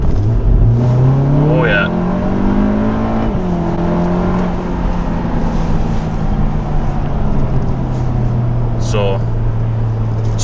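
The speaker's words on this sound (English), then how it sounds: "We're going to do a kickdown right now." Volkswagen Golf R with a Milltek catback exhaust doing a kickdown: loud engine note rising through the revs, a brief shift dip, then a steady pull, with a short spoken exclamation over it.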